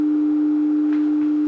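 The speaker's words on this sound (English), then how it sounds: "there's our sine wave" A waveform generator feeding a clean sine wave test tone through the speaker of an M&S Model MC602 radio intercom master station: one steady, loud, unwavering pure tone held throughout, with no voices.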